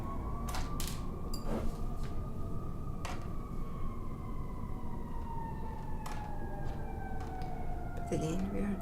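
Sirens from emergency vehicles in a Chicago street sweep in a slow falling wail over constant traffic noise, with scattered clicks and a brief voice near the end.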